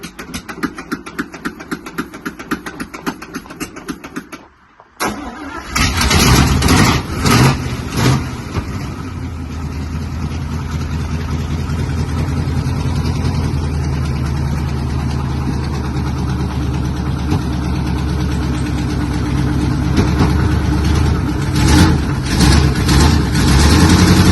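A Chevrolet C10 small block engine is cranked with a rapid rhythmic starter whir, then catches and settles into a loud, steady rumbling idle that runs on close by.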